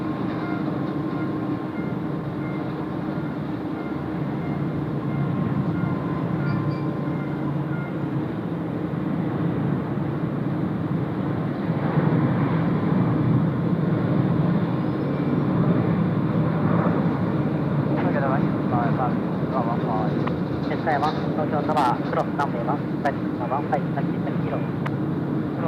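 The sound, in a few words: All Nippon Airways airliner taking off at Tokyo Haneda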